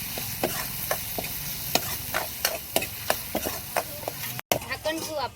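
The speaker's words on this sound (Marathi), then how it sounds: "आलू थोडेसे कडक असतात तर आपल्याला तेलातच मस्त परतून घ्यायच्यात आलू." Potatoes sautéing in hot oil, a steady sizzle with regular scraping stirs of a spatula against the pan, close by, with a brief dropout near the end.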